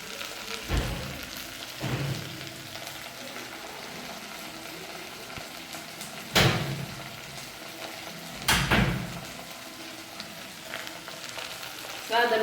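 Okra stir-frying in a pan, a soft continuous sizzle with a few louder scraping stirs of a spoon against the pan, steady and close, without talk.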